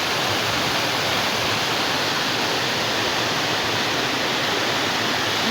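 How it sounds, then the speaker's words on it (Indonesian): A steady, rushing roar of a waterfall behind a turbine building, constant and full, with no other sounds on top. "Di belakang bangunan turbin ini ada air terjun ya tuh."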